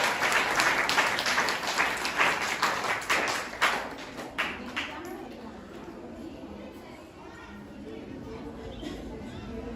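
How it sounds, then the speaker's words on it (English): An audience applauds students at a class presentation. Brisk clapping fills the first few seconds, then thins and fades into a quieter room with faint voices and murmur. "Please give them a huge round of applause, everyone."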